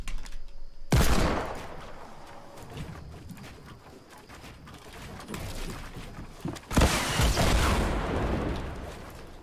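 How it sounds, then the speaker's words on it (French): Gunfire in the Fortnite video game, Season 8: two heavy bursts of shooting, one near the start and another late, with scattered softer shots and rumbling noise between them. "On me tire dessus, mais je sais même pas d'où."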